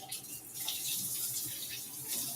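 Water runs from a kitchen tap in a steady hiss, close and continuous for a couple of seconds.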